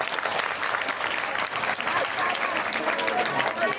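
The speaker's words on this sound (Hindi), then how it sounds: "उनके लिए भी बहुत जोरदार तालियां।" Audience applause honoring a teacher: steady, dense clapping from a crowd, loud and sustained throughout the short stretch.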